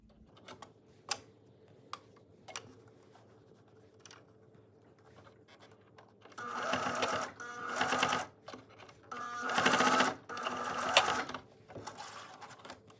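A sewing machine back stitches a fabric sheet mask in several loud, rapid motor bursts after a quiet stretch of faint clicks and handling noises.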